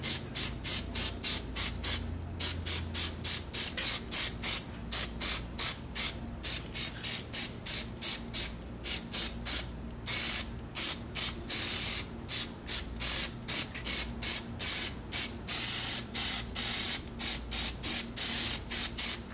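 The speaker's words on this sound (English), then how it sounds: "three coats of the matte black Plasti Dip, the original Plasti Dip in the spray can, on a real pumpkin jack-o'-lantern" An aerosol can of original matte black Plasti Dip sprayed onto a real pumpkin jack-o'-lantern in many short, evenly spaced hissing bursts, close and fairly loud, with no talk.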